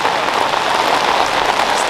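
Pouring rain falling during a disc golf final, a loud, unbroken hiss of heavy downpour close by that holds steady the whole time, with no voices over it.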